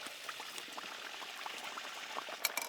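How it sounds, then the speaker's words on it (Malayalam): Rice-flour ney pathal dough sizzles and bubbles steadily in hot boiling oil, a close, continuous frying crackle with small pops, and no talking. "ഇനി ഇതേ ഈ തിളച്ച എണ്ണയിലേക്ക് അങ്ങ് ഇട്ട് കൊടുക്കുക"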